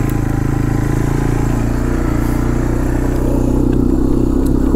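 A Honda 300 Fourtrax 4x4 ATV engine runs steadily at low revs in super low gear, a loud continuous mechanical drone with a clattery low rumble that holds even throughout, with no speech over it.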